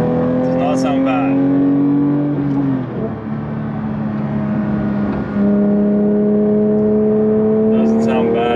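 A 992-generation Porsche 911 GT3 with stock exhaust and a manual gearbox drives with a loud, steady engine note and a brief dip, likely a gear change, midway before pulling again. Someone talks over the engine.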